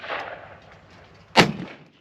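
A single shotgun blast fired at a clay target outdoors, one sharp loud report with a short decaying tail, following a quieter stretch of faint background noise.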